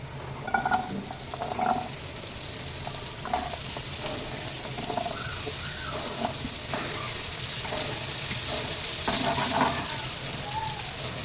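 Potatoes drop into hot oil in a kadhai on high flame and fry with a steady, close sizzle, preceded by a few clattering bumps as they go in.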